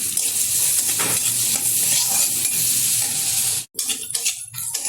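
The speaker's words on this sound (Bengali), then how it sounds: "পেঁয়াজটা একটু ভালোভাবে ভেজে নেব।" Chopped onion sizzling in hot oil with turmeric for dal, a steady loud frying hiss with stirring scrapes, briefly cut near the end before resuming.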